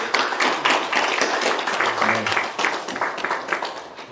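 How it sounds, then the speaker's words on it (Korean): A church congregation claps steadily together for several seconds, a dense, even wash of applause filling the sanctuary with a few voices mixed in. "우리 모든 성도를 위해서 격려의 마음으로 박수 한번 드리겠습니다"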